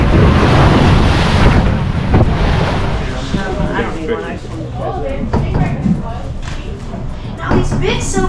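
Ocean swells and surf roll around a boat in the Florida Keys, with heavy wind buffeting the microphone and a loud, continuous wash of water. Voices can be heard talking over the noise.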